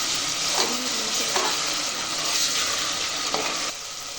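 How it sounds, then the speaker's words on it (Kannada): Ginger garlic paste fries in a pan with a constant crackling sizzle, broken by a few soft scrapes of a spoon, and the sound drops slightly near the end. "ಶುಂಠಿ ಬೆಳ್ಳುಳ್ಳಿ ಪೇಸ್ಟ್ ಹಾಕೋಣ. ಇದು ಚೆನ್ನಾಗಿ ಫ್ರೈ ಆಗಿದೆ."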